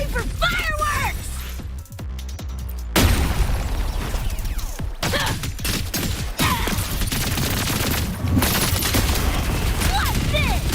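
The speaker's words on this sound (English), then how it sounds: "Get ready for fireworks!" Fireworks and explosions in the video game Wuthering Waves, a dense run of loud booms, pops and rapid bursts over several seconds, layered with game music and effects.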